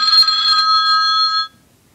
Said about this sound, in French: là je vais recevoir un appel.